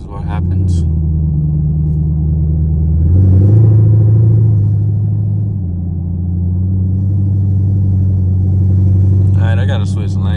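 Straight-piped Chevrolet Camaro SS driving through a tunnel: a loud, deep exhaust drone that swells as the throttle opens around a third of the way in, then settles into a steady rumble, with a brief voice near the end.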